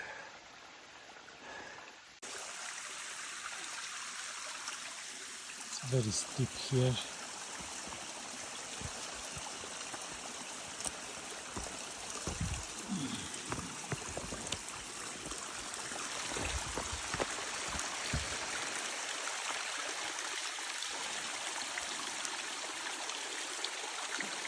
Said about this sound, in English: here you can hear a stream